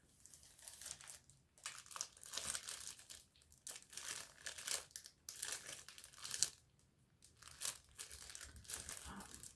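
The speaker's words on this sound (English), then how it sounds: "I figure we can start with the one that's wrapped in plastic, because I know plastic is a lovely sound" Plastic wrap on a newly bought book crinkles and rustles up close in soft, uneven bursts with short pauses, quiet and intimate.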